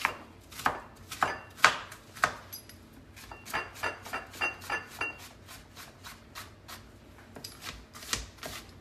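A knife chops a sweet onion into big chunks on a cutting board, giving a series of crisp, close thuds, some spaced and others coming in a quicker run.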